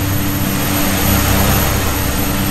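Steady, loud aircraft engine roar from an X-Plane flight simulator with the cockpit window open, a dense continuous drone with a faint high whine, no voices.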